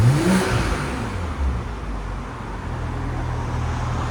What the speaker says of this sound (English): So it's Valvetronics with the valves closed.